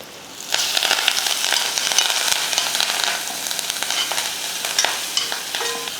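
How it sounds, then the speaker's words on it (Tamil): Busy, crackling sizzle of mustard seeds and dried red chillies hitting hot oil for rasam tempering, with rapid sharp pops and spatters over a continuous hiss, fairly close and loud. "ரசம் தாளிக்கிறதுக்கு எண்ணெய் ஊற்றிக்கலாம் எண்ணெய் காஞ்சதும் கொஞ்சம் கடுகுலுந்து ரெண்டு வரமிளகாய்"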